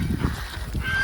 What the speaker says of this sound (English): They've got geese over here too.